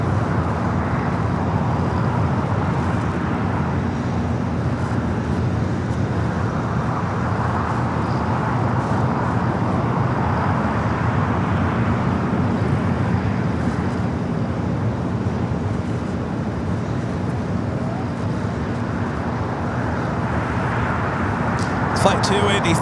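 British Airways Boeing 777-300ER arriving at LAX from London Heathrow, a broad continuous jet roar and wind rush sustained at even loudness, with someone talking over it.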